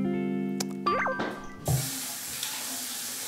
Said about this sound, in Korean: 야, 손을 또 씻네요.